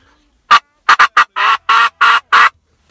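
A tube call blown in imitation of a wild turkey: three short sharp cuts followed by a quick run of four longer, raspy yelp notes, close and loud with no talking.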